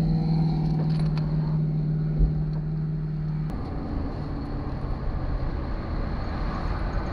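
A 1998 Chevrolet Suburban on the road, heard from inside the cabin: a steady engine drone with a tonal hum over the first half, then broadband road rumble and tire noise, with no talking.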